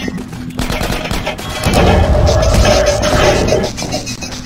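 Video game gunfire in Half-Life 2: Episode One, a loud, sustained stream of rapid shots that swells in the middle of the clip and then eases slightly.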